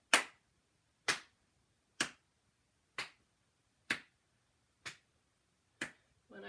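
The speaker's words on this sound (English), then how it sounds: "Hands are going to come up above the head, clap, drop down by the sides of the body, clap behind the back." Seven single claps at an even pace about a second apart, made during a Xingyi qigong exercise with the hands alternating above the head and behind the back; each clap crisp and close, with silence between.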